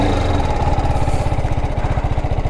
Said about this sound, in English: The exhaust sound is not so catchy.